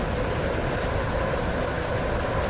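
A Stepford County Railway metro train from a video game runs steadily, a dense continuous rumble and roar of rail travel with no breaks, loud and close, without any talk.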